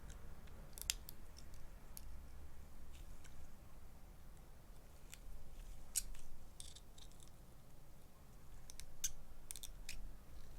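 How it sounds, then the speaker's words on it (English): Trim cuts on a resin keycap casting give quiet, scattered snips and clicks, sometimes alone and sometimes in short clusters, over a low, constant room rumble. "Now I'm just doing the usual trim cuts."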